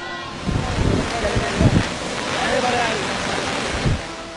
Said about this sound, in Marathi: याच पाण्यामुळे धरणाजवळच्या धबधब्यांमध्ये नवा जीव आलेला आहे